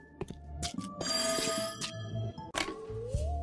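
A telephone bell rings in a bright, repeated trill over a busy mix of music and other tones, fairly loud and steady, with no one talking.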